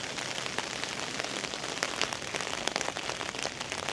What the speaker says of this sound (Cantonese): 仲係好大雨啊！